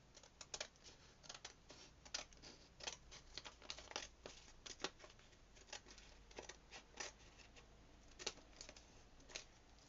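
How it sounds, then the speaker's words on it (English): Repeated crisp snipping and crunching cuts from blunt scissors, irregular and close, with a rough, dragging quality and no voices. "My scissors need sharpening"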